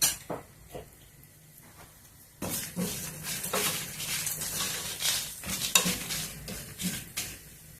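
Urad dal and chana dal fry in oil in a pan for vangi bath, with a soft sizzle and scraping stirs clinking against the pan, sparse at first, then busier and continuous.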